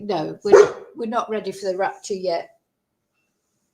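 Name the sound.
dog barking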